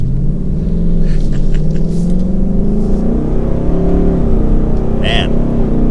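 A new Ford Mustang GT coupe with a 10-speed automatic driving in normal exhaust mode, a loud steady low exhaust rumble with rising and falling engine pitch as it pulls along, heard from inside the car.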